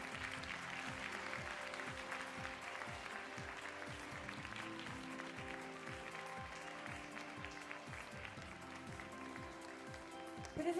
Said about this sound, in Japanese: さあ今一度2020ベストオブミスを受賞した皆さんへ祝福の拍手をお送りください